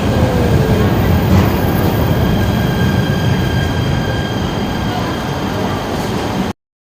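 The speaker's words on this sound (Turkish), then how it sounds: "Sayın yolcularımız, trenimiz organize sanayi el ekibine gitmektedir." A train rumbling steadily along the tracks toward an organized industrial zone in Turkey, heard from inside a carriage, with constant loud low roar and faint squealing, ending abruptly.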